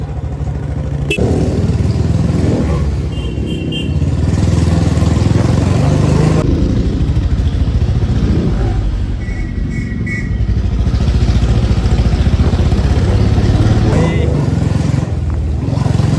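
A Royal Enfield Bullet motorcycle engine drones steadily up close amid traffic noise, with road rumble and passing vehicles, continuous throughout.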